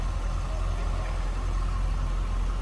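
A 5.7-litre LS1 V8 in a 2004 Chevrolet Corvette C5 convertible idles steadily with the hood open, a close, even low rumble that holds constant with no revs.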